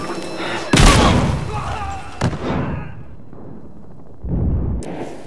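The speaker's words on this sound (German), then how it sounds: "Granate unterwegs!" A grenade explodes in the video game Battlefield Hardline during a team deathmatch, a loud sharp boom followed by a rumbling decay, with further lighter blasts and gunfire after it.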